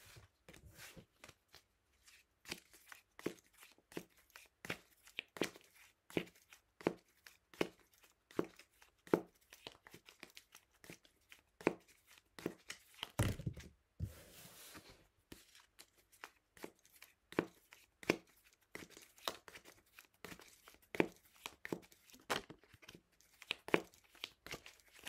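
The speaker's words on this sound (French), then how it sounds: "Et je vous ajoute quelques cartes." Tarot cards are shuffled, handled and laid out one after another, giving a steady run of crisp, close snaps and slaps with a brief papery rustle partway through, all without any voice.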